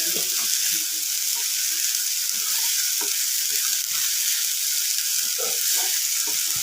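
Vegetables sizzle steadily in a hot pan while a utensil scrapes and stirs, the clatter of stirring strokes recurring throughout.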